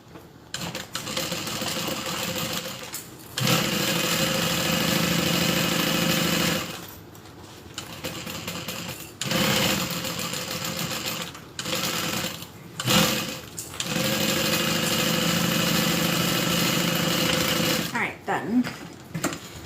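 A sewing machine stitching a handbag runs in long, loud, steady whirring bursts separated by short pauses, close by, with occasional speech between runs.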